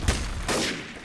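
A shotgun blast in the Trouble in Terrorist Town shooter game, a sharp loud report near the start followed by a second broad burst about halfway through, both close and with no talking.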